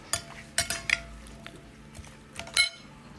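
A banana is cut into a bowl of fruit chaat at home, with a few sharp clinks and taps of a knife or utensil against the bowl, close and quiet, separated by short pauses.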